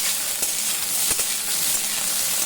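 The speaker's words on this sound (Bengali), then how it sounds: "কিন্তু আমি কম তেলে ভাজছি" Okra sizzles in a small amount of oil, a steady, close frying hiss with a couple of faint clicks, no voices.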